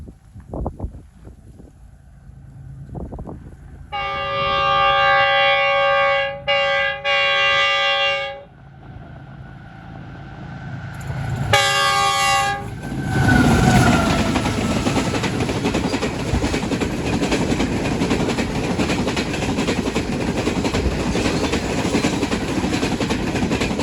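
The 27 Up Shalimar Express pulls into Ranpethani station in Thatta, Sindh. Two long horn blasts sound first, then a third, followed by a loud, building rumble and clatter of the passing coaches.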